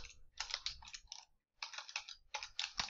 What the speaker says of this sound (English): So here we're going to type in the type of source.